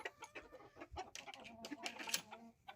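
Rooster and hens clucking inside a coop, a busy mix of repeated clucks and short calls close by, fairly quiet overall with no talking.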